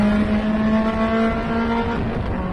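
Onboard a Mazda MX-5 Cup race car, a small four-cylinder roadster, the engine holds a loud steady buzzing drone at high revs, dipping slightly near the end, with no voices.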